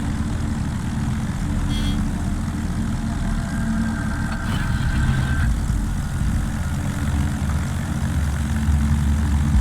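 Aircraft engines from planes in the naval battle game World of Warships drone steadily throughout, a continuous low propeller hum with a faint tone rising in the middle.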